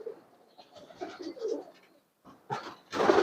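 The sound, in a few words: pigeons cooing in a pigeon loft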